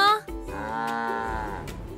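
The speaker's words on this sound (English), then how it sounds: "They're mooing" A cow gives a single long, sustained moo, loud and close, in a children's animated story about counting farm animals.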